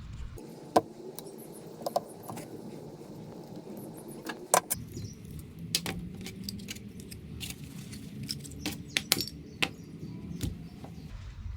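A Honda Ruckus scooter carburetor being taken apart on a workbench, with scattered sharp clicks and metallic taps of small parts and tools over a quiet room, spaced irregularly.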